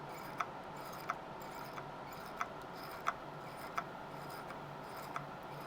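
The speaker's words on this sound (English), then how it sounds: "I'm just tightening up the pearl picker. So if you hear a sort of funny noise, it's just tightening that up." A pearl picker tool being tightened gives a sequence of about seven small, sharp ticking clicks at fairly regular intervals, faint and close over a quiet room hum.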